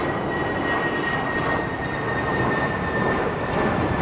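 A freight aircraft at London Heathrow Airport, a steady, loud, broadband engine roar with a thin sustained whine, unbroken throughout and with no voices.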